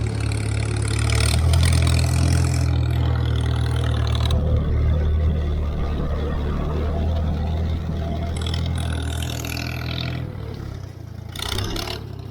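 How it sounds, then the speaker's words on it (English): A Farmall 350 tractor engine idles on a hay farm, with a steady low rumble and mechanical clatter that stays close and loud throughout, swelling briefly near the end. "I really like the sound of that engine on this tractor."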